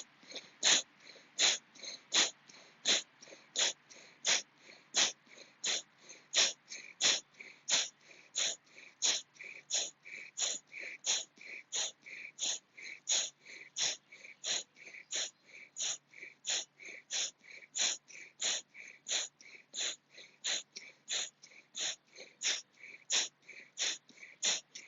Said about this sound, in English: Otherwise, you're going to do it fast with a breath of fire.